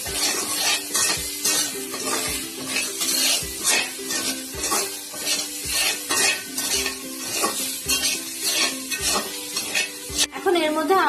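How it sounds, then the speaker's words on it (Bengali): Fried chicken and chopped onions for capsicum chicken sate are stirred in a sizzling pan, a spatula scraping in quick regular strokes over constant frying crackle. "এখন এটার মধ্যে আমরা পেঁয়াজ কাটাটা দিয়ে দিব। ভালো করে মিক্স করে নিব।"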